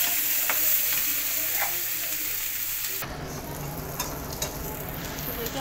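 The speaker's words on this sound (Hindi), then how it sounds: "देखिए हमारे प्याज भून रहे हैं" Onions fry in a pan for an egg curry with a close, continuous crackling sizzle that briefly drops in level partway through and then carries on with light stirring clicks and no speech.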